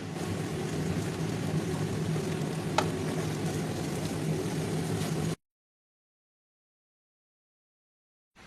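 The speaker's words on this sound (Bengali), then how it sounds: "আর দিচ্ছি চারটা পেঁয়াজ কুচি করে কেটে এবার খুব ভালো করে ভেজে নিচ্ছি" Chopped onions fry in oil in a pan, giving a steady, dense sizzle that runs unbroken for about five seconds before cutting to silence.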